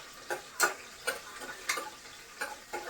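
Shallots sautéing in a pan with a faint sizzle, broken by a steady run of quiet, sharp spatula-stirring scrapes and taps about every half second, with no voices.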